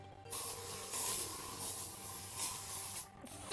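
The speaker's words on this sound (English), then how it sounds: "I need to spray this room." A spray can hisses steadily for about three seconds as a room in Danganronpa is sprayed, a close, continuous airy spray with slight swells, ending in a brief sharp sound.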